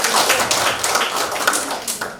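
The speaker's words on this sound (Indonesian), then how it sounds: "Kita beri aplaus untuk semangatnya" An audience at a teacher training session claps briefly, a brisk patter of hands from a modest group.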